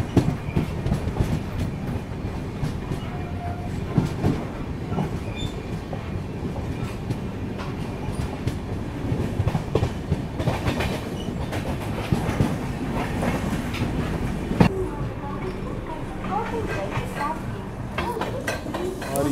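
The Telangana Express runs along the tracks with a continuous rumbling roll and rhythmic clickety-clack of wheels over rail joints, loud and close from on board.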